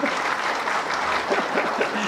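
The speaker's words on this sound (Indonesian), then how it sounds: "Tepuk tangan dong." Audience applause at a political talk session, a steady dense clatter of many hands clapping close by, with a faint voice briefly showing through near the end.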